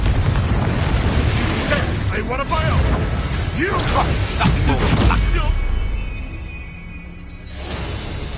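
Booming magical blasts from the Confringo spell in Hogwarts Legacy, sharp bursts and whooshing rumbles during a duel, with spoken voices mixed in before the noise fades.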